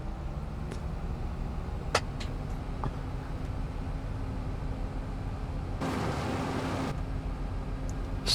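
Tractor engine in a farming video game during a hay harvest, a steady low rumble while driving, with a few faint clicks and a brief broadband hiss partway through.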